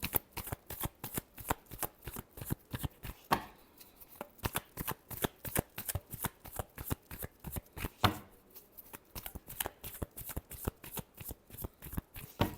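Tarot cards being riffle-shuffled by hand, a fast, steady run of crisp papery flutters with two brief pauses, close and clear with no talking.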